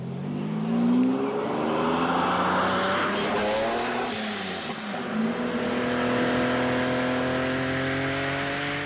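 An exclusive high-performance sports car of over 800 horsepower, from a tuning workshop in an Alpine valley, revving loudly up and down close by with a throbbing engine note and some tire squeal.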